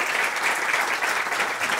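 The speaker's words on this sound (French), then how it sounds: "Jean, il mérite d'ailleurs 2 fois des applaudissements" A short burst of steady audience applause at a French literary gathering of authors, many hands clapping together loudly and evenly throughout.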